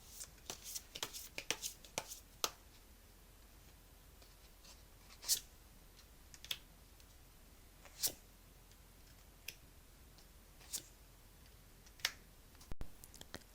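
Tarot cards being shuffled and drawn, heard as scattered soft flicks and crisp snaps of card stock, a quick cluster at the start and then isolated sharp taps spaced a second or two apart in a quiet room.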